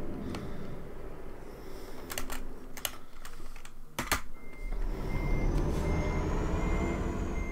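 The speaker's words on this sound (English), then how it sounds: "Stop your beeper junk." Truck reversing beeper in Euro Truck Simulator 2, a thin repeating tone over steady engine rumble, mixed with sharp keyboard clicks.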